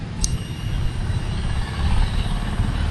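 A Royal Enfield Himalayan 450 fitted with an MNTB rally exhaust idles close by with a deep, steady, throaty rumble. A brief sharp tick comes near the start.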